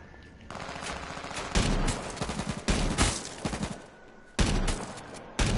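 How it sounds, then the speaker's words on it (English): Bursts of automatic gunfire in the online survival shooter H1Z1, several sharp volleys spaced a second or so apart at moderate distance, with no talk over them. "I think they're shooting at you."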